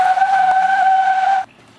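A hybrid car launching hard as its tires squeal loudly, a sharp steady screech lasting over a second before cutting off abruptly.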